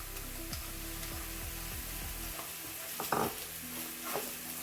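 Ginger and garlic paste frying in a pan for an egg korma, a steady sizzle with a few scrapes and taps from stirring, close by and with no talking.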